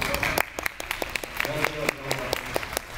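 Audience applause greeting a film director introduced at a Korean talk event, a steady patter of many hands clapping with some sharper individual claps and a voice talking over it.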